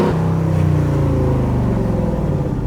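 Loud Mercedes G-Wagon engine on a London street, revving hard after a downshift with a deep, continuous rising roar close to the car, filling the whole stretch without pause.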